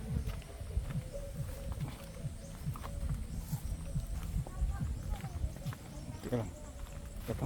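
Horse hooves clip-clop on a rural path beside a rice field, with a possible whinny, the steady rhythmic steps close by under continuous outdoor background noise and voices talking.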